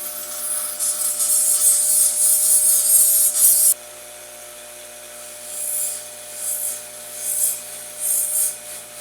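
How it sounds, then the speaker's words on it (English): A mild steel rod is sharpened to a point with a grinder, a harsh, grinding rasp for several seconds, then a sudden drop to quieter intermittent touches of the abrasive against the metal. "it's going to be a whole lot easier to sharpen the point now when it's a straight rod"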